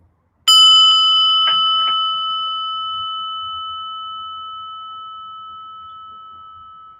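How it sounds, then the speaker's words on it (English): A single bell strikes once, clear and bright, then its pure tone rings on and slowly fades over several seconds in near silence. "listen to the bell"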